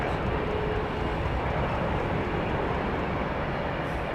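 An Airbus A330neo lands at London Heathrow, and its touchdown comes as a continuous, loud, broadband roar of engines and rushing air that holds steady throughout.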